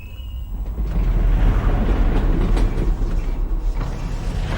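A video-game train rumbles steadily along the rails, a dense low clattering roll with faint creaks and rattles layered on top, continuous and fairly loud with no voices.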